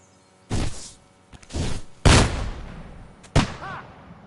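Four loud, separate gunshots from a firearm in Kingdom Come: Deliverance II, each a sharp close crack followed by a short decaying rumble, spaced about a second apart with no talk.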